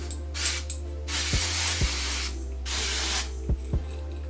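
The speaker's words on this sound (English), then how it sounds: "It's a root touch-up spray, but I'm gonna use it on my whole hair." Temptation Darkest Brown root touch-up hair spray being sprayed over hair, several close, sharp hissing bursts of about half a second each, with small clicks of the nozzle between them.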